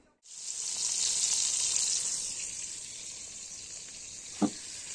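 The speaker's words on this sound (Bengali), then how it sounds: "এখন রান্না করছি" Food frying in hot oil in a home kitchen pan gives a steady, loud sizzle that fades slightly over time, with a single sharp clink near the end and no voices.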